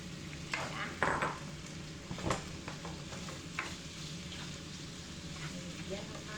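Octopus and vegetables sizzle steadily in a hot stir-fry pan, with clanks and scraping of a utensil stirring, moderately quiet and close, while someone talks over it.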